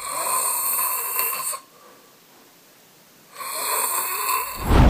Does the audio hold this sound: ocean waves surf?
no